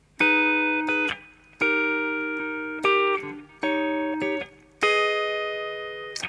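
Electric guitar plays a passage from a song, a series of sustained distorted chords and notes struck about six times, each ringing out before the next, loud and close with no voices.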